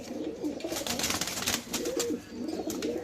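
Pigeons, including a male, coo softly and repeatedly over a constant wash of background noise, several low throaty calls overlapping close by.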